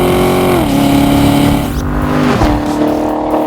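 A Corvette C7 with a 460-horsepower V8 revving loudly and close by, the engine note climbing and holding through two shifts, a steady throaty roar without talk.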